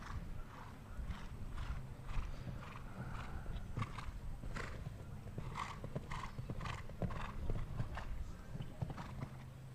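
A show jumping horse's hooves thud in a steady clip-clop rhythm across an arena during a 1.50 m CSI 5* jumper class, faint and distant under low crowd murmur.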